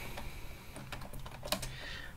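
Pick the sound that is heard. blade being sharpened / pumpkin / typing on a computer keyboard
typing on a computer keyboard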